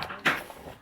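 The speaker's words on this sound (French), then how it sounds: "Une porte coincée." A jammed toilet door at Menton-Gare train station is forced, giving one short, faint thump or bang followed by quiet room noise.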